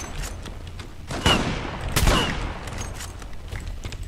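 Bursts of gunfire ring out in the online shooter Zula, with loud overlapping shots clustering in two sharp peaks amid ongoing combat noise.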